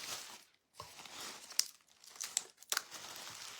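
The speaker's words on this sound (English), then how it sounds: "I'm just going to tear off sections" Paper torn into sections for a vintage mixed-media Christmas craft, a few short, crisp rips and crinkles close by, separated by brief pauses.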